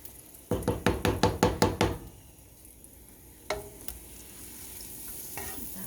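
Butter melts over medium heat in a pan for beef stroganoff. About eight quick, rhythmic knocks of a spoon against the pan come first, then a soft sizzle and a few more scattered taps.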